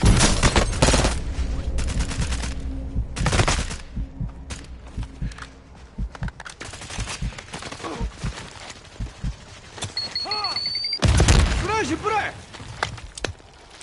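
Gunfire in the Warzone video game: loud bursts and rapid volleys of shots, close and heavy, broken by quieter stretches and mixed with game effects and rising electronic tones.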